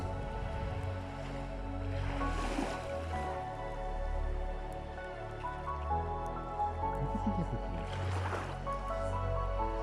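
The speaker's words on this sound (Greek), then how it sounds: "Τα κύματα ρε φίλε." Sea waves wash onto a beach during shore fishing, two soft swells of surf breaking and receding over a steady, low background rush, with faint voices in the distance.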